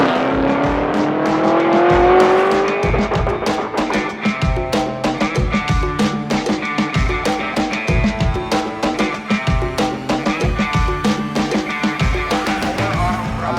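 A 1952 Chevy sedan with a supercharged 4.8 LS engine and Vortec V7 race-trim supercharger at an LS car show revs with a rising whine, then runs a loud, close, pulsing exhaust rumble.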